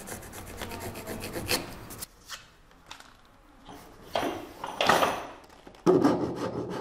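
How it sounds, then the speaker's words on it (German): A wooden shoe last is worked with a rasp and file, giving rough scraping strokes in uneven bursts with short pauses between them, close and fairly loud. "raspeln, feilen, schleifen, wie auch immer."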